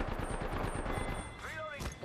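Rapid gunfire in the video game Apex Legends, a fast rhythmic stream of sharp shots rattling close and loud, ending with a couple of whooshing game effects.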